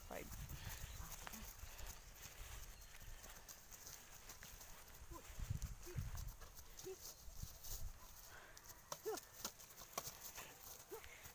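A horse's hooves clip-clop faintly at a distance, a scattered run of soft knocks under quiet background ambience and occasional voices.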